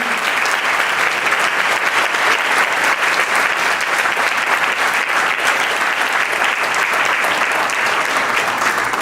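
A church congregation applauds during a Sunday service, a dense, steady wash of clapping from many hands that fills the room at full volume throughout.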